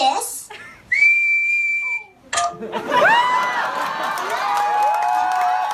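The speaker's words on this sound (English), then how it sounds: "What's whistling, anyway? You put your lips together and blow." Someone whistles a few sustained tones, some sliding up and down, mixed with bright breathy bursts and a crowd-like noisy background.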